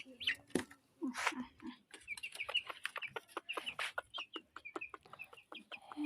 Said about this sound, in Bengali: আর আমাদের সোনালি মুরগিটা তো এনেই ফেললাম